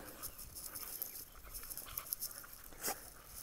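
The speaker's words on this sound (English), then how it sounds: "Being followed by all my dogs." Several dogs in a fenced breeding yard pant and give soft whimpers, with faint scattered yips and rustling nearby, quiet and close.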